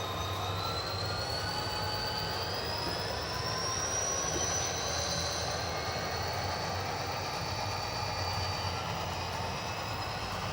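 HO scale model train creeping at yard speed into a yard track on a DCC layout, a steady low rumble with thin wheel squeal and a rising whine layered over it, continuous and moderately faint, no voices.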